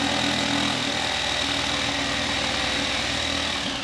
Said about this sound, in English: to cut out the vent opening, I'm gonna use a jigsaw